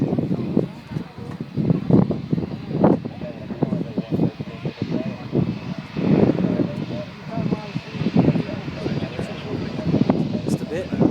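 An Emirates Airbus A380 with white engines starts an engine during pushback at Manchester Airport, a low steady whine and rumble heard from a distance while people talk over it.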